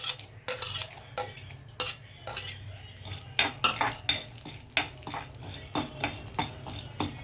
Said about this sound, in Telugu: కొంచెం వేగిన తర్వాత నేను జీడిపప్పు వేస్తున్నాను